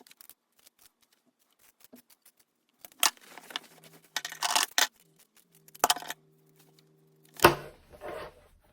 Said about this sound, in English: So just cut the corner off without going through the stitches